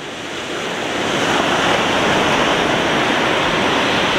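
Surf breaks heavily in a shore dump where a boat crew resets a push pole, a dense, loud wash of crashing water and roaring foam that swells over the first second and then holds steady.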